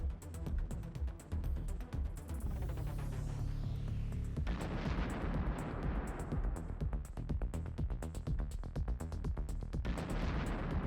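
Repeated explosions and booming blasts from kamikaze drone strikes on Russian military equipment in a combat zone, loud and dense, with rapid impacts and a sustained roar throughout.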